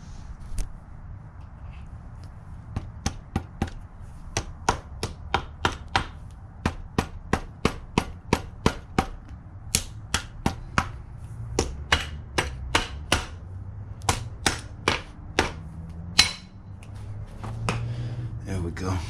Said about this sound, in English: Let me take a couple whacks at this cap,